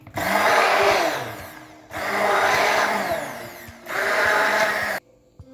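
An electric mixer or blender whirs loudly through eggless mayonnaise as oil is added, running in three steady bursts separated by short pauses, with no talk.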